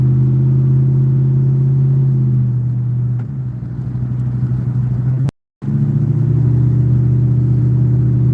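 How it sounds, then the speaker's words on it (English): A van's Ford engine idles with a steady low hum, then its tone shifts as it is revved, cuts out for a moment, and returns to a strong close idle, with no talking. "You got a Ford engine."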